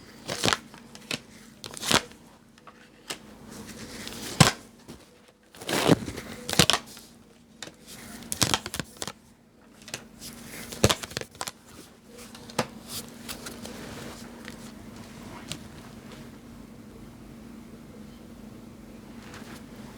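Oracle cards are shuffled in repeated crisp riffling bursts, irregular snaps and flutters, close up, with a low steady hum underneath and no talking.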